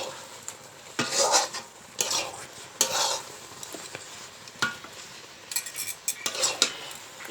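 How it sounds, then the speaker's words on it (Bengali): Tart, spicy-sweet jujube pickle is stirred in a pot after boiling, with a spoon scraping and clinking against the metal in irregular bursts over a low simmering hiss; no one speaks. "ফুলগুলো আমার সেদ্ধ হয়ে গেছে, আর একটু নেড়েচেড়ে আমি নামিয়ে নেব।"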